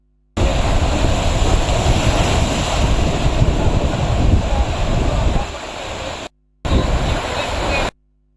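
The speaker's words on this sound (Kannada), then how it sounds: "ಸಮುದ್ರದ ಅಲೆಗಳು" Sea waves roll and surge against an eroding coastline, a loud continuous roar mixed with heavy wind buffeting the microphone, cutting off briefly before resuming.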